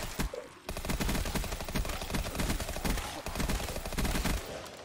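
In Black Ops 3 Zombies, on a custom cabin-in-the-woods map, a gun fires at zombies in a dense, rapid burst of automatic shots that runs almost nonstop. The gunfire is loud and close, with no talking over it.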